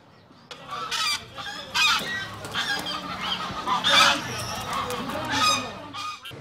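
Geese honking at a market in Sulaymaniyah where geese are sold for meat, repeated loud overlapping honks and clucks close by, rising and falling in bursts.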